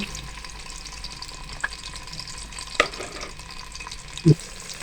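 Onion browns in oil for aloo matar pulao with a soft, continuous sizzle, broken by a few light knocks of a utensil against the pan.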